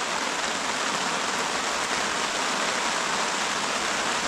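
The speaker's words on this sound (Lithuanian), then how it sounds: "Nu čia lietutis šniokščia neblogai" Steady, dense autumn rain hisses down on a lake during a fishing trip, a loud, even wash of drops with no pauses and no voices.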